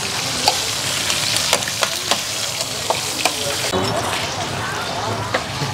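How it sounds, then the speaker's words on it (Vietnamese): Beef stir-fried in a pan for bánh mì chảo with black pepper sauce, a steady loud sizzle and frying hiss with scattered sharp clicks of utensils against the pan, and faint talk in the background. "Đó xào xào, xào chiên, chiên thịt xong rồi chuyển qua đây"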